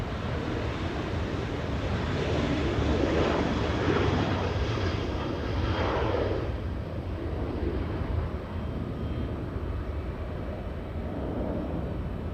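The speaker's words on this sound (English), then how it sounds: "Big American Airlines, a rare north arrival, 777-300 extended range." An American Airlines Boeing 777-300ER on a rare north arrival lands at Los Angeles International Airport, its broad rushing roar swelling and fading at a distance under steady wind noise.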